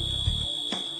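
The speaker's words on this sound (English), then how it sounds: "A first alarm is sounded." An FM-200 fire suppression system's first alarm sounds as a steady, piercing electronic tone that holds through a brief moment.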